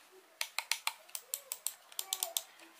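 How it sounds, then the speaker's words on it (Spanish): Key clicks from a Rii RK200 compact wireless keyboard, about 15 sharp close taps in an irregular typing rhythm, loud against a quiet room. "Vemos el ruido que hace."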